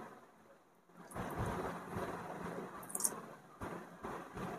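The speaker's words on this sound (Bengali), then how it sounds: "এবার ভেজে নিচ্ছি।" Potato and rice flour snacks dropped into hot oil, a dense crackling frying hiss that swells after a quiet start and stays steady, fairly faint, with a brief brighter sizzle partway through.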